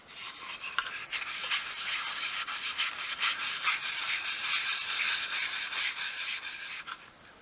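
Brisk rubbing as wax is worked over a small dolls house furniture piece with a rustic aged wood finish, continuous close scratchy strokes with a fast uneven rhythm and no talking.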